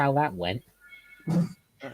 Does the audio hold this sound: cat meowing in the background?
yes